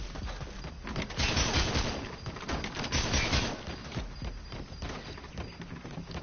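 Gunfire from shotguns in Metal Gear Solid V: The Phantom Pain, a dense run of loud blasts and impacts that keeps going almost without pause, with no talking.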